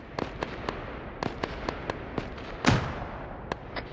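A frag grenade explodes in the military shooter ARMA 3 in a snowy winter setting, one heavier blast with a rumbling tail standing out amid a scatter of sharp, distant cracks of gunfire.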